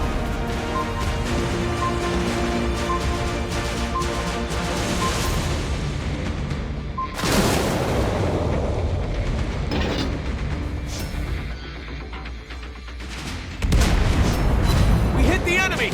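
In World of Warships Blitz, naval shell hits and explosions rumble over a constant backdrop of battle noise, with heavy booming impacts standing out around the middle and again near the end.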